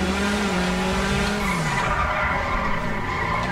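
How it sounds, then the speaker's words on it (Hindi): Tires squeal and skid loudly as a car drifts in GTA 5, a sustained screech with shifting pitch over a steady engine roar, with no voices. "ड्रिफ्ट करने की कोशिश नाकामयाब रह जाती है कभी कभी।"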